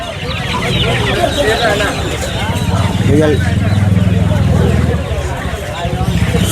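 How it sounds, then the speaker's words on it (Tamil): Roosters cluck close by amid a busy, noisy weekly animal market in Pallavaram, with people talking loudly over the birds. "சேவல்"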